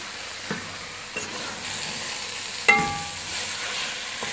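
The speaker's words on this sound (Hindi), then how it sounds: "जब तक इसका घी बाहर नहीं निकल आता अच्छी तरह से हम इसको भूनते रहेंगे।" Grated carrot halwa with milk and khoya is stirred and roasted in ghee in a pan: a steady, soft sizzle runs throughout, broken by a few light scrapes and one sharper knock of the spoon, with no talking.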